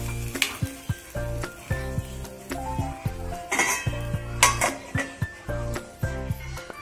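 Kantoli vegetable simmering in a pan on a low flame and being stirred, with a steady soft sizzle under repeated clinks and scrapes of a spoon against the pan, close and fairly loud.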